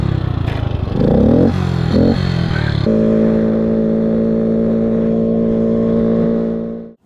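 A 1966 Honda C100 Super Cub motorcycle engine idles steadily and loudly close by, after a few brief revs and clattering sounds at the start.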